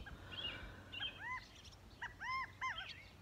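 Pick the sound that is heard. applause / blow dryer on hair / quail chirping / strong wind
quail chirping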